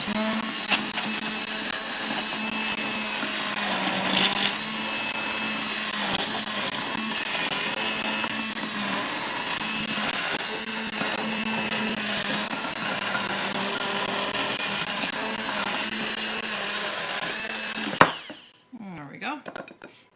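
Handheld electric hand blender whipping eggs for a pumpkin crème brûlée, a steady loud motor whir running continuously for about eighteen seconds, then cutting off abruptly.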